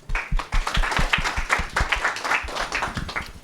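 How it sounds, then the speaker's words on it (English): Audience clapping after a speaker's introduction at a talk on deep learning for digital pathology: a brief burst of scattered individual claps, moderately close, with some sharper slaps standing out. "So let's give him a round of applause."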